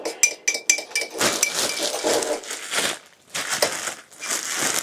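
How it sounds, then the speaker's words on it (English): Food being stirred in a bowl with mint sauce, giving scraping clinks and crunchy rubbing strokes in quick bursts, close and fairly loud with brief pauses and no talk. "Just give that a really good stir."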